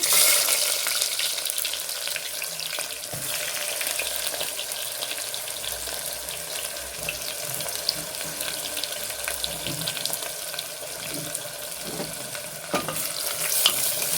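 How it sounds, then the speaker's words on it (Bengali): Onions frying in a pan for a spicy Bengali mutton kosha curry, a steady close sizzle that runs the whole time with a few clinks and stirring noises and no talk. "পেঁয়াজটা আমি লাল লাল করে খুব সুন্দর করে ভালো করে ভেজে নেব।"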